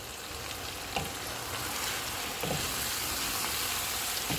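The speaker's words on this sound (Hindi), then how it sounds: "इनको ऑयल अलग होने तक भूनेंगे।" Ground spices with salt, turmeric and chili powder frying in oil in a pot for a boneless chicken handi, a steady close sizzle with a few faint stirring scrapes.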